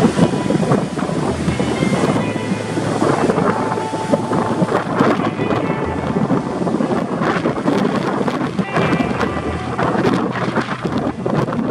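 Strong winter wind on the Sea of Japan coast at a surf point with big breaking waves, a loud continuous roar and buffeting across the microphone with crashing surf underneath.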